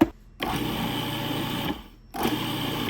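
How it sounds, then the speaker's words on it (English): A food processor pulsing butter into cookie dough: two loud whirring motor bursts, each lasting over a second, separated by short near-silent pauses, close and mechanical. "Pulse a few times until it looks like the butter is all properly distributed"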